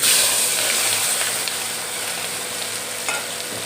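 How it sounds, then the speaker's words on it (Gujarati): Onion and potatoes fry loudly in a pan with cumin, asafoetida and turmeric, giving a dense, steady sizzle and hiss with a few stirring scrapes close by. "હવે આપણે ડુંગળી બટેટાની અંદર નાખી દેવાના છે."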